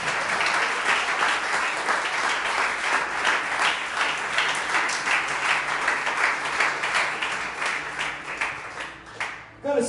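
Steady, rhythmic applause from a church congregation during a Brazilian sermon, strong and sustained, then thinning and stopping near the end, with some voices mixed in.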